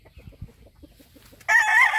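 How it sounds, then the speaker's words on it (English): A small hen makes soft low clucks in a loose rhythm, close by, and then a loud squawking cackle breaks out near the end. "Fine little hen."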